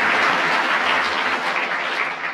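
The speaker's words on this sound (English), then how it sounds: "Give her a round of applause for honesty." Studio audience applause for a panel game show, a dense, steady burst of clapping from a full room that holds evenly for a couple of seconds.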